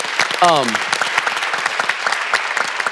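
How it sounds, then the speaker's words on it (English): An audience at a church conference breaks into loud, sustained applause for a guest named Sam, a dense wash of clapping with a brief voice rising above it near the start. "Give Sam a big round of applause"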